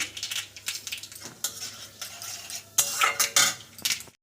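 Dried red chillies and mustard seeds hit hot mustard oil in a wok for a Bengali tempering, giving a close sizzle broken by several bursts of metal spoon stirring and clinking against the pan.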